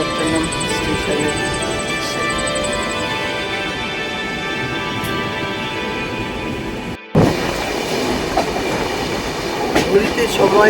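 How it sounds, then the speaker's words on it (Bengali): A passenger train on the Howrah to Visakhapatnam route rolls along the rails at dawn, producing a loud, steady rumble and rhythmic clatter. A brief cut interrupts it before the clatter resumes, slightly busier. "আমাদের ট্রেন এগিয়ে চলেছে"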